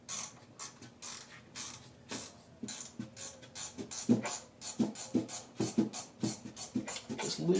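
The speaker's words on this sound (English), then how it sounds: "Loosening the upper connection point here. Yeah, one of these little ratcheting closed-end wrenches, box-end wrenches," Rapid metallic clicking from a small ratcheting box-end wrench loosening the upper radiator connection on a 2005 Subaru WRX STi, bursts of close, sharp ratchet ticks repeating in uneven strokes.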